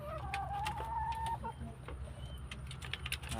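Chickens clucking softly at a distance, with a brief rising cackle early on, over a steady low background hum.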